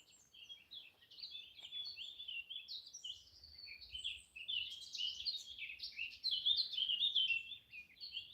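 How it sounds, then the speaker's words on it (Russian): Small birds chirp and trill continuously outdoors during a walk, a busy layered chorus of quick high calls over faint low background rumble, with no talking. "Вам слышно, как птички поют?"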